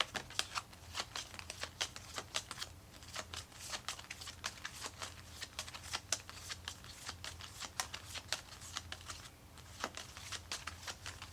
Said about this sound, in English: I'm going to choose from these cards here.